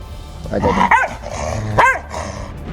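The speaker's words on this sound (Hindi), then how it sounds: "आवारा कुत्ते न सिर्फ सड़क पर आफत बन गए हैं, बल्कि रेजिडेंस सोसाइटी में भी जमकर उत्पात मचाया हुआ है।" Stray dogs bark around a residential housing society in Noida, two or three loud close barks with yelping tones over a constant outdoor background hum.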